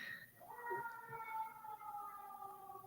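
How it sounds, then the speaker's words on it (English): A siren wails at a distance, its long tone sliding and holding steadily, faint beneath a low background hum. "I just got distracted by a siren"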